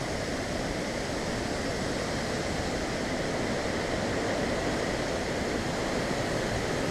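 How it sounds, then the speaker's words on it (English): Strong wind from a winter storm on Maui roars as a steady, broad rushing noise, unbroken and fairly faint, with no voices over it. "we are still suffering from some serious wind."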